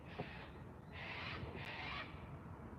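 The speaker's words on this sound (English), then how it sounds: "Listen to those bloody cockatoos." Cockatoos calling overhead outdoors: three loud, harsh screeching bursts over a steady background hiss, with no talking.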